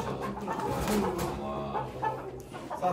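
A rooster clucking amid a busy outdoor crowd at a poultry auction, with people talking loudly throughout and a brief higher squawk near the middle.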